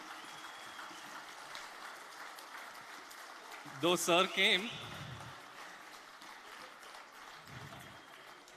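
An audience at a bank officers' federation general council claps in a steady, moderate patter beneath someone speaking over a microphone, with a short burst of voice in the middle.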